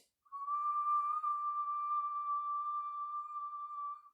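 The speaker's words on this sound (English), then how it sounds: "So when our lips are puckered in this way and we're whistling" Steady whistling inhale through puckered lips during kundalini yoga breathing: one long, pure, even whistle held for about four seconds, close and clear with no talk.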